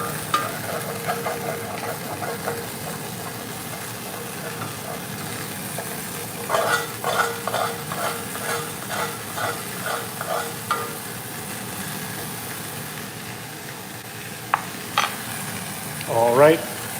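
Steak cooks in a greased pan with a constant sizzle and bursts of quick, rhythmic scraping and stirring strokes, with a few clinks toward the end and no talking.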